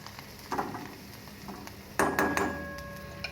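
Vegetables sautéing in a pan for sambar, a soft sizzle with a few close scraping and clinking strokes of a spoon against the pan.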